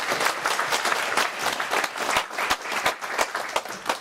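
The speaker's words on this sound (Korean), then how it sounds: "박수 한번." Church congregation applauding at an Easter service, lively, close crowd clapping with a slightly uneven pulse, loud and continuous with no voices over it.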